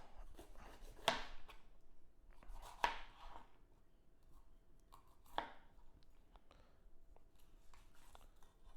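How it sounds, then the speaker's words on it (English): Knife chopping vegetables on a cutting board for an egg white omelette, with a few distinct sharp chops spaced out over otherwise quiet kitchen background. "now it's time to start cutting up the vegetables"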